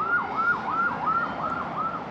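A fire engine siren wails alone in steady rising and falling cycles, about one sweep every half second, loud and continuous with no voices.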